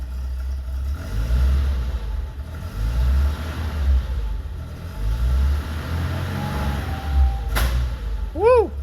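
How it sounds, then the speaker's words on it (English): A 1982 BMW 320i engine runs rough and stuttery as the gas pedal is pressed, a low rumble that ends in one sharp backfire pop near the end, with someone talking over it. "Backfire."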